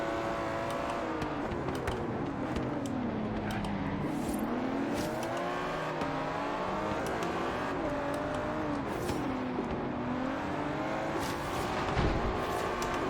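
Aston Martin V12 Zagato in Forza Horizon 3, engine droning continuously with pitch sweeping up and dropping through gear shifts as the car accelerates, loud and close with no talk over it.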